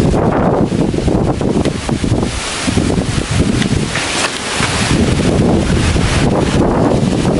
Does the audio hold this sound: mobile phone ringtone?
no